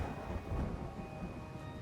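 Steady rain with a low rumble of thunder in a thunderstorm at a deserted train station in the horror visual novel game Graces: Posthumous Wish, heard as a continuous, fairly even wash of sound with no voices.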